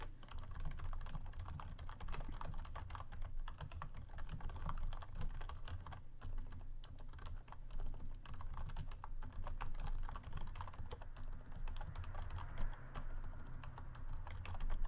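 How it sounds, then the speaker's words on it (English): Typing on an odd-shaped computer keyboard, a rapid, irregular stream of close key clicks continuing throughout at low volume with no voices. "I sit at this weird ass keyboard, and I'm typing on video"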